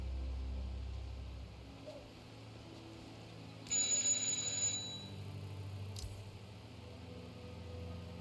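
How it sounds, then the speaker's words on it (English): A doorbell chimes in the Hitman 2 mission "Another Life": a bright ringing tone of about a second rises over a low ambient game hum, with a short faint click later on. "just ring the doorbell"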